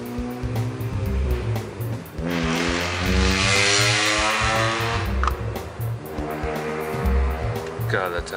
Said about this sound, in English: Civic Waggo van with straight pipes